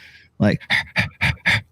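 A voice imitates heavy breathing or panting during a live-streamed AD&D tabletop session, five loud, rhythmic, breathy pants close to the microphone after a short intake.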